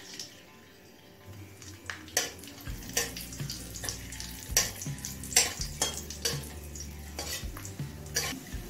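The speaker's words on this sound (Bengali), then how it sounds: "তেল গরম হলে কিশমিশটা দিয়ে দিচ্ছি।" Raisins fry in about three tablespoons of hot white cooking oil in a wok, giving a steady sizzle with repeated clanks and scrapes of a spoon stirring against the pan, fairly close and with no talking.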